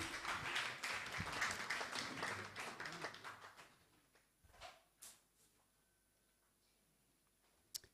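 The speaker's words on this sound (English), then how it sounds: "With a rounding sound of applause, please let's invite Spiky." An audience at a press freedom day business event applauds to welcome a speaker, a dense round of clapping that dies away within about four seconds, leaving scattered claps, taps and a sharp click near the end.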